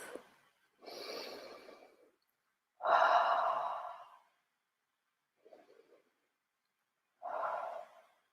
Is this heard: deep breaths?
yes